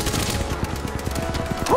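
Rapid automatic gunfire in an Apex Legends match, a loud, fast rattling stream of shots that keeps going without pause, with a brief tonal blip at the end.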